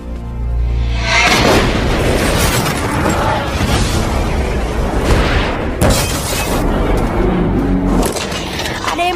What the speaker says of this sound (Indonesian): Ternyata koper yang dipaketkan itu adalah isinya sebuah bom waktu.